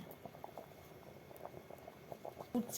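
Rice boiling in a pot over a lit clay stove, a soft continuous bubbling and popping patter at low level with no voices.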